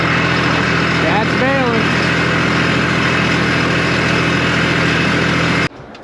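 A tractor-pulled hay baler running in a field, a loud steady engine drone with a rhythmic mechanical hum, briefly joined by a voice before cutting off abruptly near the end.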